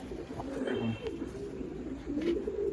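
Pigeons at a pigeon sale and show coo continuously in low, throaty, overlapping calls close by, with faint background noise and no talk.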